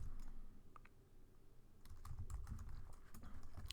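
Quiet keystrokes click on a computer keyboard, a few scattered taps at first and then a faster, denser run of typing toward the end.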